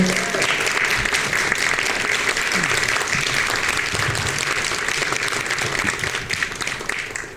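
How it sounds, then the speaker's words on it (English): Concert audience at a carol program applauds a harp solo, a full, sustained round of clapping from many people that stays loud and even throughout before easing slightly at the end. "Can we get another round of applause for Yumiko on the harp solo?"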